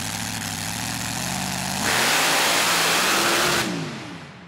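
A mud drag racing car at a 2011 mud racing event rises from a rough idle into a loud, sustained full-throttle roar down the track, then fades as it pulls away.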